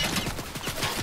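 Rapid automatic gunfire from the Fortnite video game, a dense run of repeated shots across the whole moment, loud and close with no speech over it.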